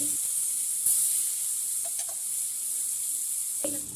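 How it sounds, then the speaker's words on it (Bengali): Chopped onion hits hot oil left over from frying fish, giving a steady, close sizzle with bright hissing and a few soft clinks of stirring. "তো মাছ ভাজার তেলে দিয়ে দেবো পেঁয়াজ কুচি"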